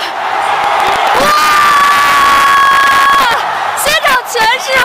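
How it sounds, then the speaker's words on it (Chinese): A packed stadium at the National Games erupts in loud, sustained cheering and shouting after Su Bingtian wins the sprint, with a long horn-like tone riding over the roar before it breaks into scattered whoops. "现场全是欢呼"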